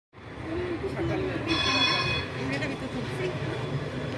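An above-ground tram running in Education City, Qatar, a continuous rumbling ride with a brief squealing wheel tone partway through, heard from on board with people talking over it.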